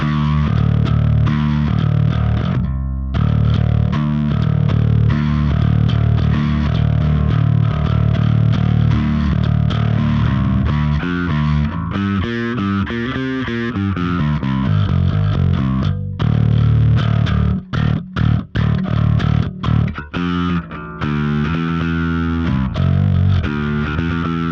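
A bass guitar plays through a Lusithand Devices Ground N Pound bass distortion pedal at low gain, with a thick, gritty, sustained tone throughout. Notes shift and stop briefly near the end.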